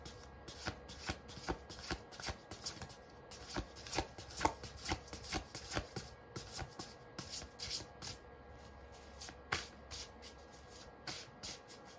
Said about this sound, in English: To shuffle like this